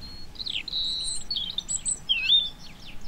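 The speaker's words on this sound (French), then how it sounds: "On dirait vraiment que c'est le printemps, les oiseaux chantent." European robin singing in autumn, a series of thin high warbling phrases and trills at moderate distance over faint background hiss.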